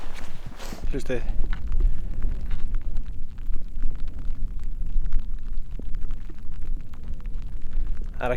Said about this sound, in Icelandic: Það heyrir bara í vindinum, nokkrir fuglar og svo smá rigning.